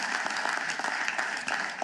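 Short burst of loud clapping from a church congregation during a Spanish-language sermon, dense and close with a few sharper individual claps standing out.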